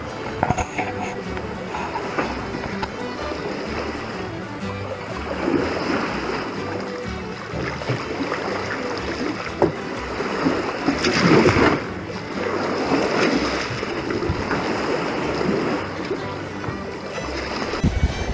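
A sailboat running under spinnaker at six to seven knots across a beam wind, its hull washing steadily through ocean waves with continuous rushing water and occasional louder splashes.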